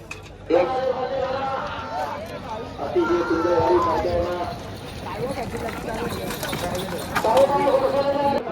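Bulls pulling carts in a bullock cart race thud past with rhythmic hoofbeats amid a noisy outdoor crowd, while people shout and talk throughout.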